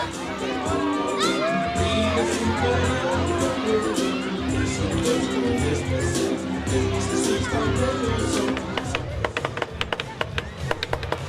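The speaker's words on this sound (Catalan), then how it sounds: "Aplaudiment! Crits!" Carnival street crowd in Vila-real, loud chatter, shouting and children's voices filling the air, with scattered clapping breaking out sharply near the end.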